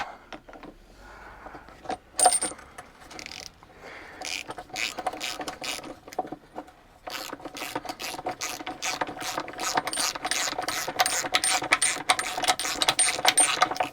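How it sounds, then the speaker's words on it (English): A ratchet wrench clicks rapidly while bolts are tightened on a 1989 Marmon truck, close and crisp, first in scattered short bursts, then in long steady runs of dense ticking. "We're going to stand by here for a little bit while we tighten this up."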